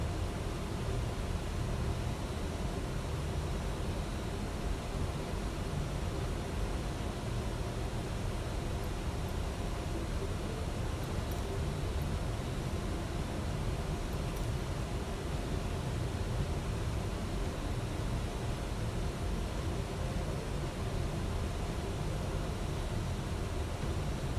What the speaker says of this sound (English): This airplane sounds pretty good. I just wish the engines were a bit louder on the inside.